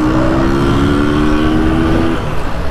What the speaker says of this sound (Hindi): कौन कौन इस बाइक की आवाज़ को पसंद करता है